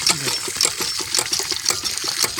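Cold water gushes and splashes steadily from a hand pump in a border village in Punjab, Pakistan, a continuous close watery rush with faint background sounds.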